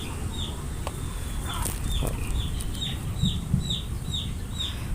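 Chickens cluck steadily in a small rear coop while eggs are collected on a hot-season farm, with repeated short calls over a constant hiss of background noise and a few soft knocks.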